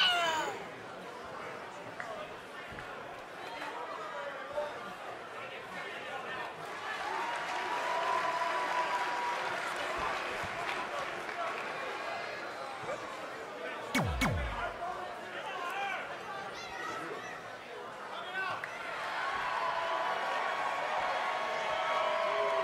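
A wrestling arena crowd cheers and claps continuously, a dense roar of applause and chatter rising and swelling, with a single sharp thud partway through.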